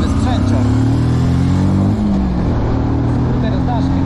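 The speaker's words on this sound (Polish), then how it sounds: "Skuter z daszkiem, jakiś Peugeot." A Peugeot scooter fitted with a roof goes by, its engine note rising and then falling as it passes fairly close, under a voice in the background.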